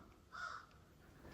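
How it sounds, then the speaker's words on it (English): Crows calling outside, a single loud caw rising briefly out of quiet background noise, fairly distant. "There's a bunch of crows outside right now. They keep interrupting me."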